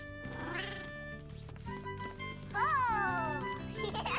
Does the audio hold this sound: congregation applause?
no